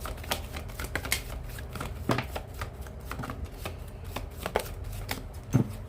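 Tarot cards are shuffled by hand in a run of quick, irregular riffles and slaps, close and fairly quiet, with no talking.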